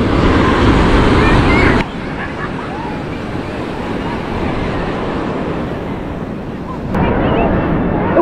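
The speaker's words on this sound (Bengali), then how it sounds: "আমার পিছনে পুরো পুরীর সমুদ্র সৈকত। এখন 10টা বাজে, মানুষজন দেখুন সবাই নেমে পড়েছে স্নানের জন্য, আর কত সুন্দর ঢেউ।" Waves breaking on Puri beach, a loud continuous roar of surf with heavy wind buffeting the microphone, surging louder at the start and end.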